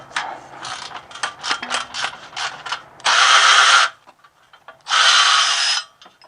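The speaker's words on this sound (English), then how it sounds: "one downside of the Milwaukee high-speed ratchet is that it doesn't have a lot of torque" A Milwaukee high-speed ratchet unbolts a transmission bolt on a ZF 6HP19 gearbox in an E90 BMW 335i. A run of close mechanical clicks is followed by two loud, sustained, whirring buzzes separated by a short pause.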